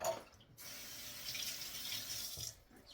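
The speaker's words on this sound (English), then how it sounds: "Rinse my hands off real quick." Running tap water pours steadily into a sink as hands are rinsed, a continuous close hiss that starts after a brief pause and cuts off near the end.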